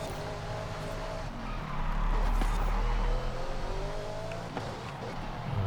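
A car's engine roars at full throttle through a corner in the Forza Horizon racing game, a loud, sustained drone with rising and falling harmonics, a brief swell in the middle and tire noise underneath.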